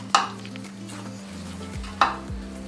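Methi (fenugreek) paratha dough being mixed with ghee in a home kitchen: two sharp, brief slaps or knocks against a low, steady background hum.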